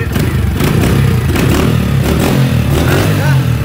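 A motorcycle engine revs hard and loud at close range, the throttle held open in a steady roar, with people talking over it.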